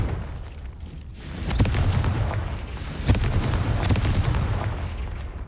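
Confringo blasting spell explosions in Hogwarts Legacy, with two sharper booming bursts standing out from a dense, continuous rumble of in-game combat noise, loud and close.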